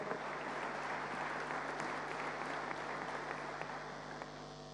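Sustained applause from an audience honoring opposition members at a provincial budget and tax bill presentation, a steady dense wash of clapping with a faint crowd murmur, fairly distant and even throughout.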